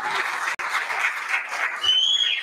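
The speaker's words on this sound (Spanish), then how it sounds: "de nuevo un aplauso" Applause from an audience for a singer at a charity concert, a steady continuous clapping that fills the whole short stretch.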